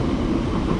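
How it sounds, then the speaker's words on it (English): Train rolling over a bridge beside a river, heard from a cruise boat as a continuous low rumbling roar, steady and moderately loud. "We do have a train going over the bridge here."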